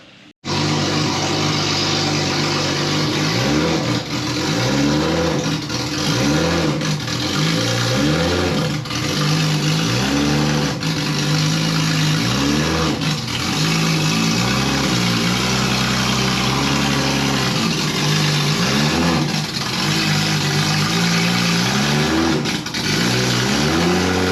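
2JZ-swapped Toyota Camry strapped to a dynamometer, its engine running loudly and close for the whole stretch with repeated rev swells rising and falling over a steady drone, and no talking.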